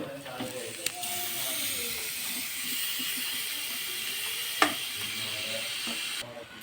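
Squid drops into a hot pan of turmeric, garam masala and spices and sizzles with a steady hiss, a couple of sharp clinks of the utensil cutting through, while a voice talks softly.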